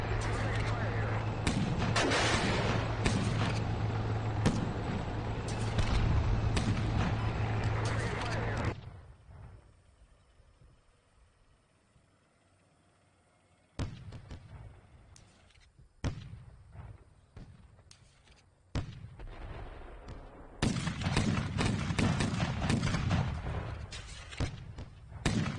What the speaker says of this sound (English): Sound like artillery.